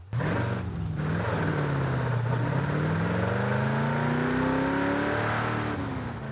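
Chevrolet Custom K10 pickup engine in Forza Horizon 5, loud and close, revving steadily with rising and falling pitch through gear changes, alone with no talk.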